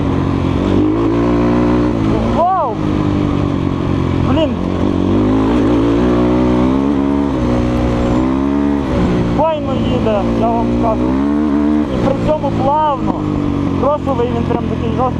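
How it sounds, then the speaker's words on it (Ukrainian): A Kovi Lite 300 enduro motorcycle engine revs hard and repeatedly, pitch rising and falling close by, with a person talking over the loud buzzing roar. "не швидко, але він кричить цей мотоцикл"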